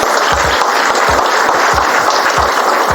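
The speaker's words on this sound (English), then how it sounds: "So I want to give her a big round of applause." Loud, dense applause from an audience at a men's gathering, continuous with a steady rhythmic clapping pulse running through it, close and full.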